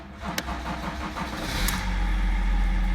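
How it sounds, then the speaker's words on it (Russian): A BMW E39 with the 3.0 turbodiesel M57 engine cranks and fires up, settling into a steady, close diesel idle. "Заводится хорошо."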